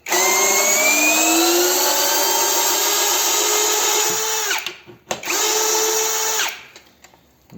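A DRIVAK ED002 cordless screwdriver runs in reverse backing a screw out of wood, a loud close motor whine that bogs down and stops, briefly restarts, then winds down.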